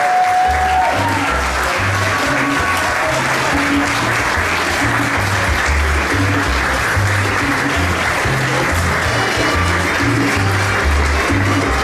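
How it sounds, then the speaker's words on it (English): Sustained audience applause for an award presentation at a film festival grand opening, a steady wash of many hands clapping that holds constant throughout, with faint background tones underneath. "Everybody, Gloria Starkins, please, a round of applause."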